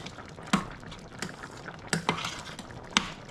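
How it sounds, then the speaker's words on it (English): A spoon stirring seasoned black beans in a pot, a few soft scrapes and clinks against the pot over a faint low hiss, quiet and close. "Just giving my black beans a little stir."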